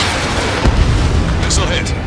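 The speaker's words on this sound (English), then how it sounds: "Missile hit." Missile striking its target in the flight combat game Ace Combat 7, a dull low boom with rumbling explosion noise and a brief bright crackle, loud and close, lasting about two seconds.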